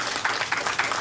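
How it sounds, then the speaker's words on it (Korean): Audience clapping during a lecture at a Korean science-and-technology entrepreneurship camp: a brief stretch of steady, rhythmic handclaps, roughly four per second, moderately loud. "박수 부탁드립니다"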